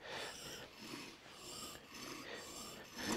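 A plane iron held in a honing guide is pushed back and forth on a sharpening stone, making quiet, close, rhythmic rasping strokes about twice a second.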